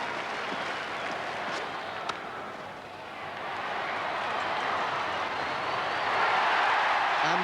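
Cricket crowd at the MCG during a one-day match between Australia and the West Indies, a broad sustained roar of applause and cheering from a distant stadium that swells louder toward the end.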